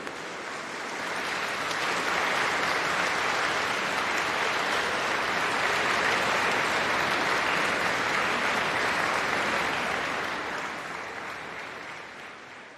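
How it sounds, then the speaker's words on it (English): Sustained applause from a large audience at a university graduation ceremony fills a hall, swelling quickly, holding steady for about ten seconds, then gradually thinning out. "give a round of applause to everyone sitting in front of you who has supported you?"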